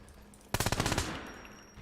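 A gun fires a rapid automatic burst of about eight loud shots in the survival video game SCUM, ending abruptly and followed by a brief quiet tail.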